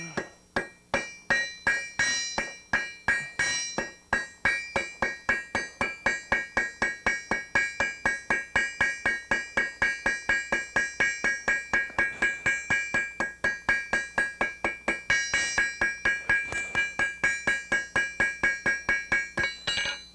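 A blacksmith hammers 3/8 inch rod on an anvil to draw out points: a long, steady run of rapid, evenly spaced ringing metal strikes, close and alone with no voices.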